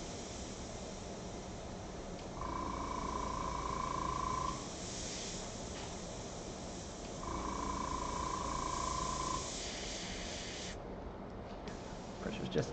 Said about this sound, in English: Just want a little bit more airbrush in the detail area behind the wheel here.